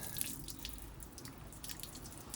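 Dirty water draining from a Beko washing machine's clogged filter, splashing and trickling steadily onto a hard floor, a continuous wet patter with a few brighter drips, close by.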